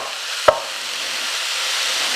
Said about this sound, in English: Can you hear that sizzling?